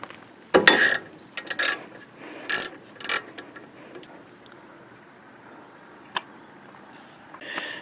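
Ratchet clicking while loosening the brake caliper bolts on a 2014 Jeep Patriot during a front brake pad change, with several close, loud bursts of rapid metallic clicks, then a single sharp click and a short final burst.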